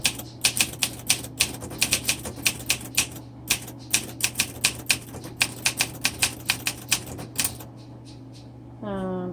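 Someone types on a 1961 Olympia SM7 manual typewriter, a run of sharp, evenly paced keystrokes close to the microphone, then a short pause and a brief ratcheting carriage sound at the end.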